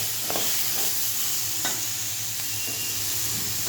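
Crab sautéing in a pan gives a steady close hiss and sizzle, with a few brief stirring scrapes rising above it.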